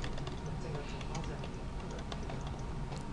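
A computer keyboard clicks in a fast, irregular run of light taps, close and fairly faint against a steady background.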